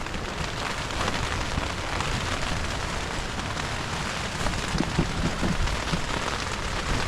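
Steady rain falls during a short storm over a primitive marsh campsite, a dense, even patter heard from inside a tent, continuous and fairly loud with no talking.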